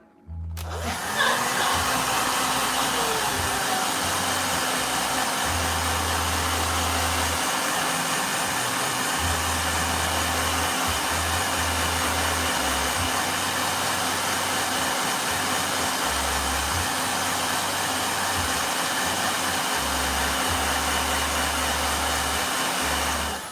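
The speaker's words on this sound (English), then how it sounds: "All right, blow dryer." A blow dryer runs steadily for over twenty seconds, drying a watercolor painting on textured cold-press paper; a loud, constant whooshing hum with a low drone, close to the mic and with no talking.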